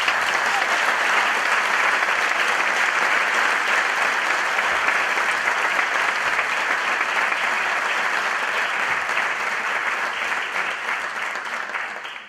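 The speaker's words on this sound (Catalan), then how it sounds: "Per ells us demano un fort aplaudiment" An audience at the Turisme Garrotxa tourism office's 20th anniversary event gives the office team sustained, loud applause, a thick, even wash of clapping that carries on for over ten seconds before it begins to fade.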